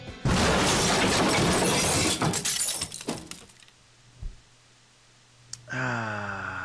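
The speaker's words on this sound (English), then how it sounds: "the Yambar smashed into the boat like a missile" A vehicle crashes into a houseboat in the visual novel The Eden of Grisaia, a loud sustained smash of shattering glass and breaking debris that fades to quiet, followed by a sharp click and a rising tone.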